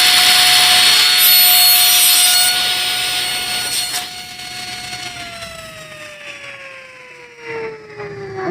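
A table saw cuts a short wooden workpiece with a loud, close, high whine and rasp that gradually winds down as the blade slows, with no voices.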